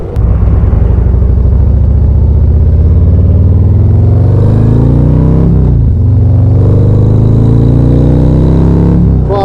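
A Harley Road Glide ST motorcycle rides along, its loud, close engine droning steadily with a deep rumble and a brief dip in pitch partway through, as if shifting gears.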